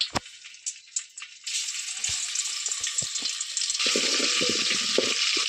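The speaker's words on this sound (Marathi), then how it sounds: "आता अद्रक लसूण पेस्ट टाकून घेत आहोत" Ginger garlic paste frying in hot oil in a pot over a wood-fired chulha: a sudden loud sizzle after a quiet start, then steady crackling hiss with intermittent low knocks.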